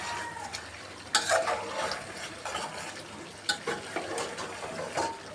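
Chicken curry with homemade garam masala stirred in a pan, with a quiet sizzle and intermittent scraping and clinking strokes, faint and close.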